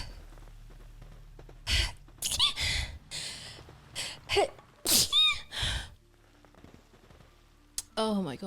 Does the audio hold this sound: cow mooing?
no